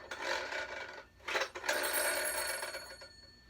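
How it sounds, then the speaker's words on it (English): A classic telephone bell ring on a phone, a bright metallic trill sounding in two long bursts separated by a short gap, fairly loud and alone with no talking. "it's called a classic ring"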